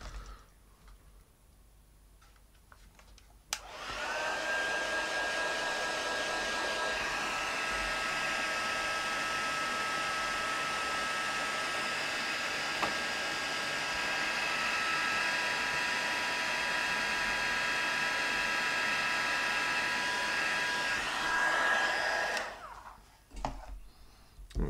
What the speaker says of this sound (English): I'm going to heat set this one right now.